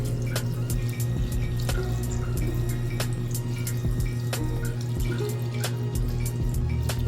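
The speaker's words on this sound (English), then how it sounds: "And then we are going to add some more filtered water." Filtered water runs steadily from a tap into a bowl of sea moss, a continuous splashing fill with scattered drips and clinks, close and fairly loud.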